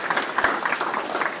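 Applause from a small gathered audience at an online sales-leaderboard shout-out, a dense patter of clapping at moderate level, steady over a short burst with a faint voice underneath.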